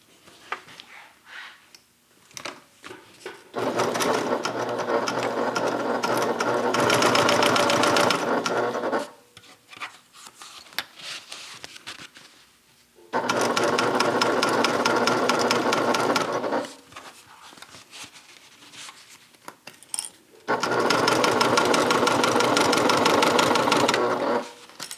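A sewing machine stitches a fabric bag in three long, even runs of fast mechanical whirring, with quieter handling noises in the pauses between runs.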